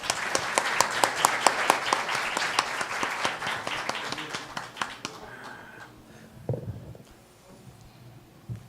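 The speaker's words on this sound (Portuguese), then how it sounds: "peço aplausos de boas-vindas" An audience applauds to welcome a speaker at an academy of letters event, steady clapping for about five seconds that fades out, followed by a few faint thuds and room noise.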